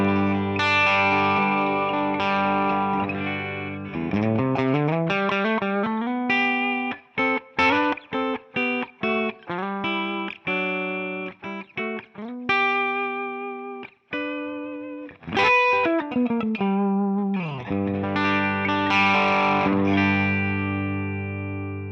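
Electric guitar played through a Tonex pedal tone model, a distorted, chorused tone with sustained chords and quick picked single-note runs, loud and alone with ringing sustain between phrases.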